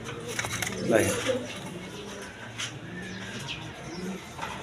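A pair of Rajgolla pigeons coo softly at close range beside a voice talking, with a steady murmur of background noise throughout.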